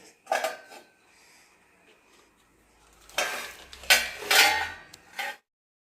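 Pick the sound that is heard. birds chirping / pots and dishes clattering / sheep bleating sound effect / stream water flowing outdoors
pots and dishes clattering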